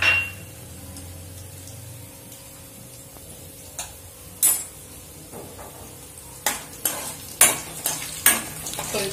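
Peanuts roasting in a pan for semiya upma, a quiet dry sizzle with sharp scraping stirs and clinks growing more frequent toward the end.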